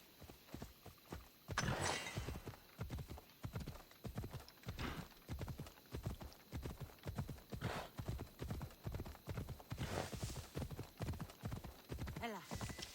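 A horse in Assassin's Creed Odyssey gallops in a fast, even clip-clop rhythm of hoofbeats for the whole stretch, close and steady, with a brief whinny and faint game ambience underneath.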